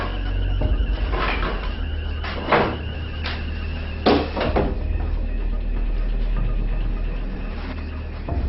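A door is pushed open while someone enters a building with signs of forced entry. Several hollow thuds and knocks sound close by over a low, steady rumble.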